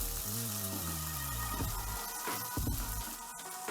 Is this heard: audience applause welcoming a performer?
no